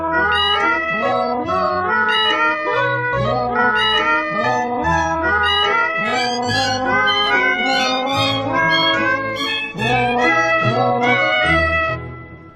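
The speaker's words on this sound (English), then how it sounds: "A related annoying technique known as cat yodeling now benefits from auto-tune technology." Cat yowling run through an auto-tune effect, a string of loud, pitched, sing-song meows and caterwauls in a rapid melodic sequence with a brief pause near the end.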